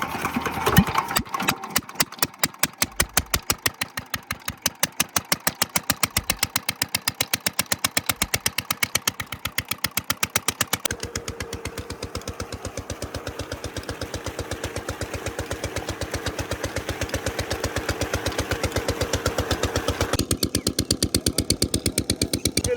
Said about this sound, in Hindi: हीटर इंजन स्टार्ट करते हैं